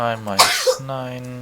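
A single sharp sneeze bursts out in the middle of a person's speech during a coding session, brief and close, with talking before and after.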